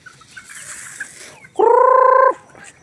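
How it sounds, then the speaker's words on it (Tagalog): Farmyard fowl with chicks, soft scattered clucks and peeps at first, then a loud, close, rattling gobble-like call lasting under a second, followed by quieter bird sounds. "Ayan po mga sisiw nandito na."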